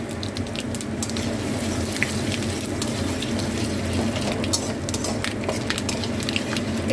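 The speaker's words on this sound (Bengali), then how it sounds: "এই হচ্ছে হিংটা ফোড়নে দেবো" Asafoetida tempering in hot oil, heard as a steady close sizzle with fine crackling ticks and a few sharper pops throughout, with no voices.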